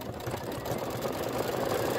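An embroidery machine stitches out a bee's head and antennae for a quilt block, producing a steady, close mechanical whirr with a rapid needle rhythm and no pauses.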